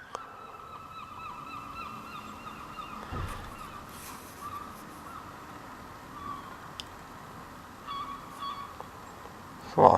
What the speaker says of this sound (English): A lot of seagulls.